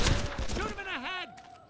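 A quick burst of gunshots opens a cemetery shootout in the Made Man video game, sharp loud reports in the first half second, followed by a voice and a sweeping tonal sound.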